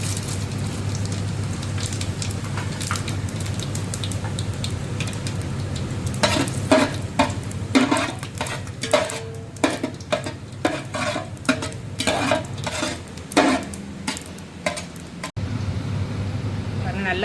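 Whole spices such as cinnamon, cloves and cardamom, plus fennel seeds, fry and are stirred in a pan for chicken biryani, with steady sizzle and repeated scraping strokes in the second half, close and moderately loud.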